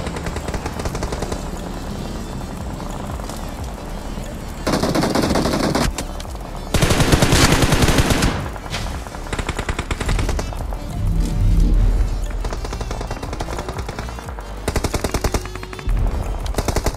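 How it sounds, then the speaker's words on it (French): Dense gunfire crackles from many directions in an online battle-royale esports match, with sustained automatic bursts, loud overlapping volleys and brief lulls, heavy and close throughout. "Ça tire de partout."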